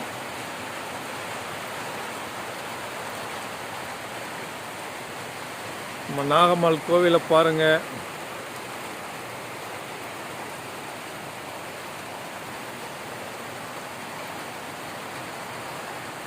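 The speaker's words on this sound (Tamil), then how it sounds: "நாகபுரத்தில் எப்படி மழை பெய்யுதுன்னு பாருங்கள்" Steady heavy rain pours continuously at a hill temple in Nagapuram, a uniform hiss throughout, while someone speaks briefly over it midway.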